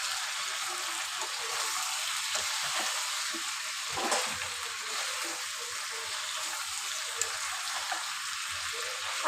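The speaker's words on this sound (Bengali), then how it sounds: "এবার কেটে রাখা আলুগুলো দিয়ে আরও কিছুক্ষণ কষিয়ে নিব।" Chicken and cut potatoes frying in a pan for a home-style curry make a steady close sizzle with light stirring noises throughout.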